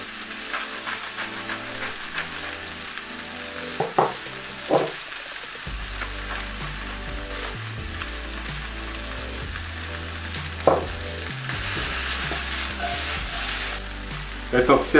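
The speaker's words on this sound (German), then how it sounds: "Jetzt noch circa eine Minute anbraten und dann kommt es mit zu den Gnocchi dazu." Broccoli pieces fry in a pan, a soft, steady sizzle with occasional louder crackles and stirring clatter, heard up close beneath a person talking calmly.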